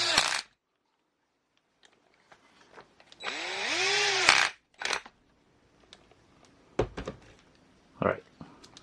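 Lock nut tightened on an Element Utron RC crawler build with Scale Metal Supplies upgrades: a single whirring burst of a small powered driver lasting about a second, surrounded by quiet scattered clicks and taps of parts being handled.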